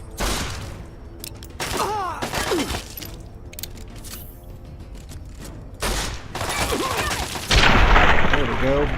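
Assault rifle fire in Fallout 3, rapid bursts of shots alongside breaking and shattering impacts, loud and close, with someone talking between the volleys.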